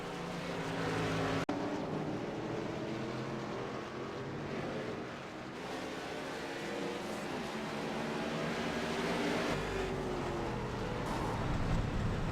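Race car engines drone steadily through an iRacing video game replay at Rockingham, with the moment of a car being hit sitting inside the continuous engine noise; a sharp knock briefly cuts through early on.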